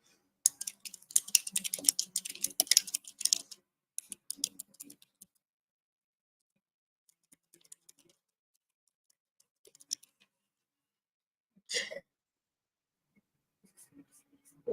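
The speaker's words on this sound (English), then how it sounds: "I have to type in something." Computer keyboard typing, a quick burst of close clicking taps followed by scattered lighter keystrokes and pauses, with brief bits of movement noise.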